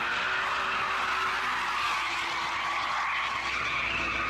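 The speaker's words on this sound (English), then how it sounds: "Nice drift." A BMW E34 M5 super saloon drifts with a sustained, loud tire screech that runs unbroken under a steady engine roar. No voices are heard.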